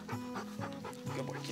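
A hunting dog panting rapidly and close by in the field after pheasant hunting, quick rhythmic breaths in short bursts continuing steadily, with faint outdoor background.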